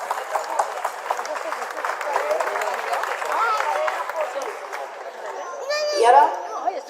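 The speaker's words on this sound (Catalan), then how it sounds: "Un fort aplaudiment." Applause from a crowd at a giants' festival gathering and parade, steady clapping under children's chatter and nearby voices, with a brief bright burst of shouting near the end.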